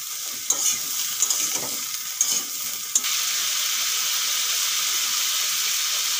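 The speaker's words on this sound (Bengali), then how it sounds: "ঝিঙা আলু ভালো করে ভেজে নিয়েছি" Ridge gourd and potato fry in a pan with a steady sizzle, punctuated by a few stirring scrapes early on before the hiss settles into an even, continuous crackle.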